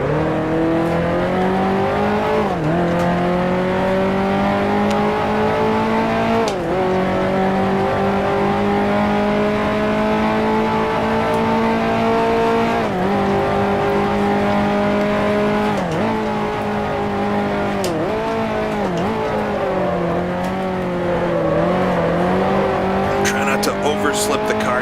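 Race car engines from a 1955 Formula One game in Grand Prix Legends hold a loud, continuous drone that rises and dips as the car shifts and accelerates. Brief tire squeals cut in, and a voice talks over it.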